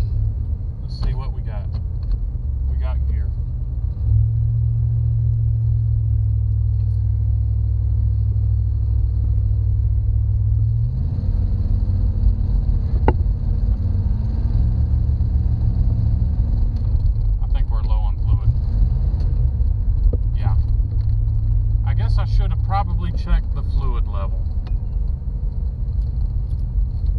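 A 1984 two-door Chevy Caprice engine idles with a steady low rumble while gears are tested, the pitch shifting briefly as the transmission engages, with someone talking over it throughout.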